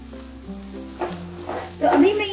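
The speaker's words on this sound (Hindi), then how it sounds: "तो अभी मैं ये सारी सब्जियां मिक्स करूंगी और इसे अच्छे से पकाऊंगी।" Peas, capsicum and tomato fry in a pan, giving a soft sizzle with a few stirring scrapes that grow louder near the end, while a low voice hums or murmurs in the background.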